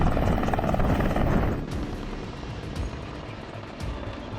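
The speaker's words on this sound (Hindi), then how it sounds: "किश्तवाड़ में पहली बार लड़ाकू अपाचे हेलीकॉप्टर की लैंडिंग करवाई गई" Military Apache attack helicopter landing at a helipad in Kishtwar, a loud rotor roar and engine whine that drops in level partway through, with steady blade chop continuing afterward.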